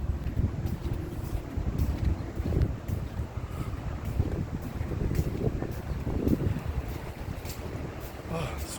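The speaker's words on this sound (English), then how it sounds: "So windy." Strong wind buffets the microphone in continuous low roaring gusts on a high-rise residential building in Taman Desa, loud and close throughout, with faint voices mixed beneath the blustering.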